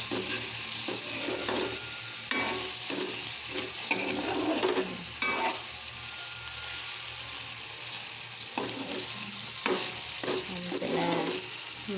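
Three shrimp fry in a pan for ginisang togue, a steady close sizzle with repeated stirring scrapes and clacks of a utensil against the pan.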